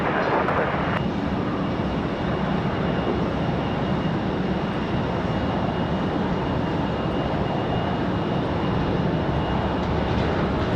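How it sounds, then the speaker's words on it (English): A CRJ regional jet lands on runway 5 left at Raleigh-Durham International, its engines a steady, moderately distant broadband roar that holds evenly throughout with no voices. "Another nice smooth CRJ touchdown"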